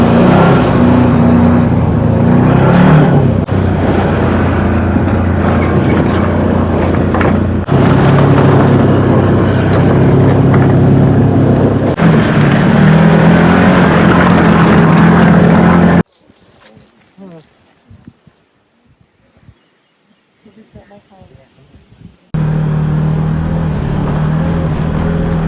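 An ATV engine in Maui, Hawaii drones and revs loudly with wind noise and people talking over it. A long stretch drops nearly silent before the rumble and chatter return.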